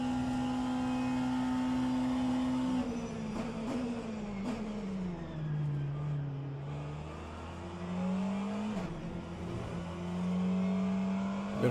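A McLaren race car engine in a racing video game, a loud sustained tone that dips and climbs again through gear changes and throttle shifts, with no talking.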